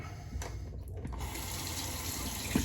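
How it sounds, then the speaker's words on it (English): Cold tap water running steadily into a sink to rinse a 1960 Gillette Fatboy safety razor, a continuous close splashing rush throughout. "Get that rinsed in some nice cold water."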